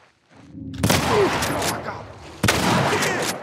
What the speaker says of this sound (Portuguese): eu vou dar um tirão nesse cara aqui